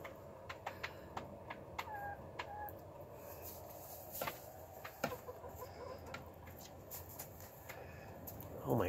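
Chickens cluck softly and intermittently, with a few sharp pecking or tapping sounds scattered throughout and a louder squawk near the end, all fairly faint.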